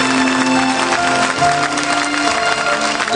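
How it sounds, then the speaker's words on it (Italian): Audience applause at a Neapolitan music show, steady dense clapping throughout with sustained musical tones underneath. "Facciamolo un bel applauso e un tanti auguri."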